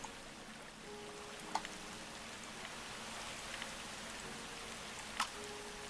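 Steady rain falls in the video game Agrarian Skies 2, an even, soft hiss throughout with a couple of brief clicks standing out.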